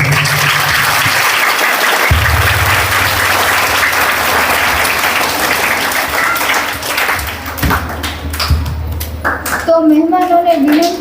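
Sustained applause from a crowd at a primary school admission festival fills the whole stretch, loud and dense, thinning slightly near the end as voices and a tonal sound rise over it.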